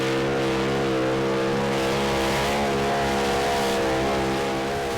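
A 10,000-horsepower heavy modified pulling tractor with triple Allison engines roars loud and steady at a tractor pulling competition in Brande, Denmark, its dense harmonic drone holding for the full stretch with no break.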